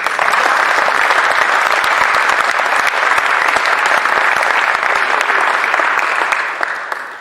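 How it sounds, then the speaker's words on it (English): A seated audience at a report launch on the Indian diaspora gives a dense, steady round of applause that holds strong throughout and tapers off briefly at the very end, with no voices over it. "I think that deserves a round of applause."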